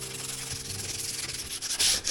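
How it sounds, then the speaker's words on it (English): Hand sanding with a small piece of sandpaper on the rotted transom of an aluminum tin boat: close, rasping back-and-forth strokes that grow louder toward the end, with no talking. "Maybe all I need is just the just a little piece of sandpaper."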